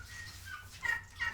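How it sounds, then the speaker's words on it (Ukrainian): Faint turkey gobbling and warbling calls rise briefly at a distance over a low background hum, with no one speaking. "Є пару індиків, є індички."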